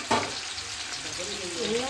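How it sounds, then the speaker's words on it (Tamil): Onions fry in a pot while cooking chicken biryani, giving a steady broadband sizzle with a brief louder crackle near the start, close and moderately loud, with no talk over it. "வெங்காயம் கொதிக்குது."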